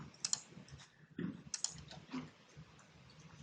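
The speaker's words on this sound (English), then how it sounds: "So you can simply start typing and it works." Quiet clicking of keys on a computer keyboard, in uneven bursts of taps spread across a few seconds, faint and close, with no talking.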